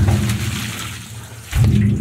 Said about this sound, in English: And look at the flow of water he's got coming out of there.